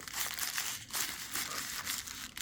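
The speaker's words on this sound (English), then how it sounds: "Let me take a layer of paper off here." Paper wrapping crinkles and tears as it is peeled off a 1960s Hot Wheels toy, a close, continuous rustling with several sharper ripping bursts and no talking.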